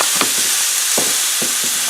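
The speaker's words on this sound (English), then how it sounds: "Sizzle in the griddle." Burgers fry on a hot griddle with a steady, close, loud sizzle, broken by a few soft scraping or stirring knocks at intervals. No one speaks.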